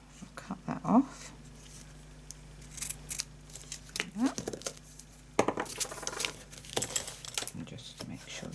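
Several crisp scissor snips and paper crinkling while cutting card stock for a handmade paper flower, close by, in short bursts separated by pauses, with a faint low hum behind.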